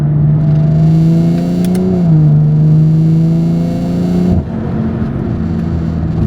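A 500 hp BMW engine revs loudly and steadily up close at a gas station, its pitch dipping briefly before holding at a strong drone, then dropping off near the end.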